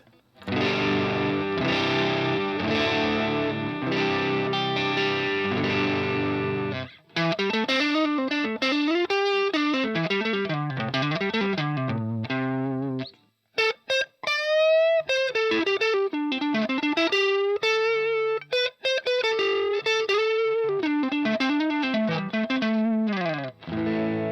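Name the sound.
electric guitar clean tone through Boss AR2 amp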